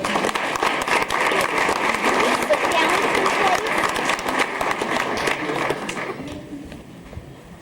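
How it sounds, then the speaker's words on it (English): Audience applause at a school's 50th anniversary gathering in Cheyenne, Wyoming: dense, steady clapping from a crowd that carries on for several seconds, then thins out and fades toward the end. "let's give them a round of applause"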